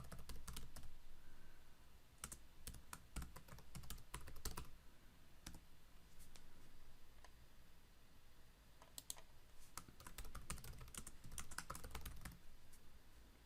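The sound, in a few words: typing on a computer keyboard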